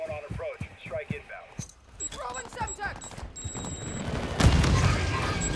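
Video game gunfire rings out in scattered shots and bursts during a multiplayer match, mixed under excited players talking over one another, with a denser, louder volley toward the end.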